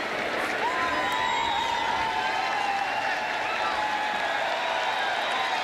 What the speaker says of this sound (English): You can hear the applause from the audience.